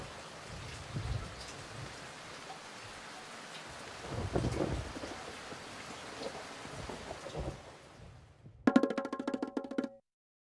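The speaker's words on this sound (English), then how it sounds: "It rains and rains on Kate." Rain falls steadily with low rumbles of thunder rolling through, moderately faint and continuous, ending in a short burst of bright tinkling tones.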